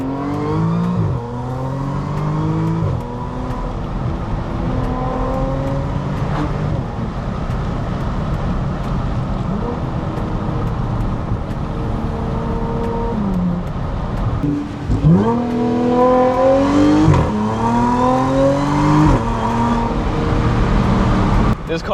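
Car engine revving hard through a full-throttle pull, rising in pitch, dropping at gear shifts and climbing again, loud and close from inside the moving car.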